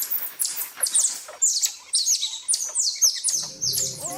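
A marmoset gives a rapid series of shrill, high-pitched whistling chirps in quick bursts, close and clear, with fainter calls in between.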